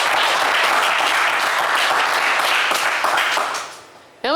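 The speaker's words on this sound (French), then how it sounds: "avec beaucoup d'applaudissements" A French TV quiz-show studio audience claps loudly and steadily to encourage a contestant, the applause thinning out and fading near the end before a brief sharp sound cuts in.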